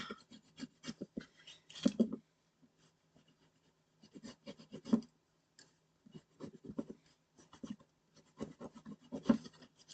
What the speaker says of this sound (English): Just rubbing that down really well.